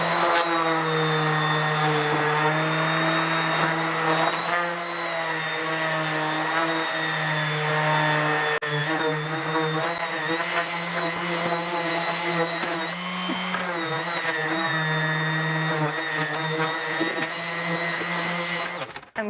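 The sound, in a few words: DeWalt random orbital sander sanding wood with 150 grit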